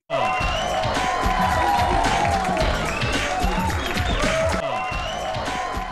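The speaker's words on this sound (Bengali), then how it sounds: "ওনার সম্মানে জোরে একটা হাততালি" A crowd of party guests at a drink-launch celebration breaks into loud, sustained applause mixed with cheering, a thick, continuous roar of clapping that holds steady for the whole stretch.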